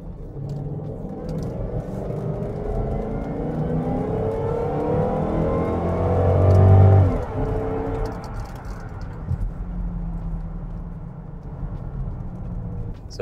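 A pickup truck accelerates during a timed acceleration test on a road, the engine rumble building and rising in pitch to a loud peak, then easing off with a shift and settling into a steady cruising drone.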